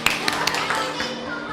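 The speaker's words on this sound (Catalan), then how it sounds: "Un aplaudiment per a Nare" Children in a classroom give a short round of applause for a classmate, with a few scattered claps mixed into the voices and room chatter.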